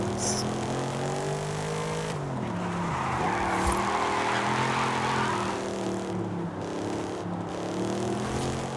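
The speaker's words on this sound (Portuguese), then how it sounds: "Eita, perdi o controle e bati aqui o carro." In Forza Horizon 5, a car engine drones steadily, then the tires squeal in a long skid with a dull thump partway through, over continuous background music.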